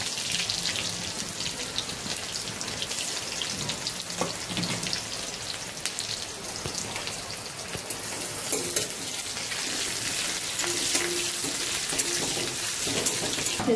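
Onions, dried chili and whole spices fry in hot oil in a pan, giving a steady close sizzle with a faint hiss and a few light stirring sounds throughout.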